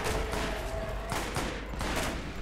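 Rapid gunfire in the Borderlands video game, a dense volley of repeated shots with sharp bursts of impact, steady and loud throughout with no talking.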